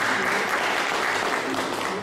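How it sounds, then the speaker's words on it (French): Audience applauding Mr. Kaba at a formal talk: continuous, dense clapping from many hands, fairly loud and steady throughout, with no other sound standing out. "Donc je vous demande encore d'applaudir M."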